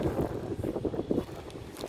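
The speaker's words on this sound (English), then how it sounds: "Oh, it's very windy here" Steady wind buffets the microphone outdoors by a swimming pool near the Saigon River, a dull low rumble that gusts slightly over about two seconds with no talking.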